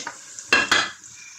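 Whole spices (bay leaves, cinnamon and cardamom) plus nuts and raisins drop into hot oil in a pot for turkey biryani, giving two quick, close sizzling bursts that fade into a low steady fry.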